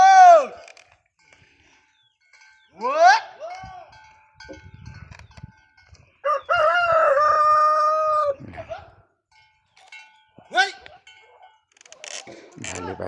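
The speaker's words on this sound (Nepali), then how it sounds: "भाले बासिरहेछ" A rooster crows several times at dawn in a Nepali village where oxen are ploughing, loud rising calls with pauses between, alongside other harmonic calls and quieter rustling.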